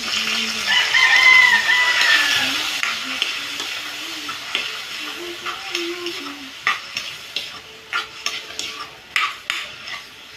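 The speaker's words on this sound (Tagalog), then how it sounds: "ginisa ko yung atay ng manok" Chicken liver sizzles and fries in a pan while a utensil stirs, with a few sharp scraping taps toward the end; no talking.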